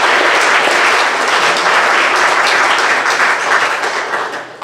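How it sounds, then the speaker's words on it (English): A school awards assembly audience gives a big round of applause, dense loud clapping filling the room for several seconds before easing off at the end, with no speech over it. "So give Mrs. Biddle a big round of applause."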